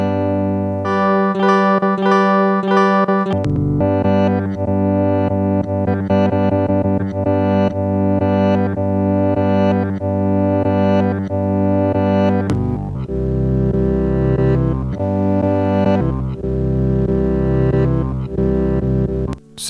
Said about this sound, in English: messing with the looping section to create something that sounds a bit like this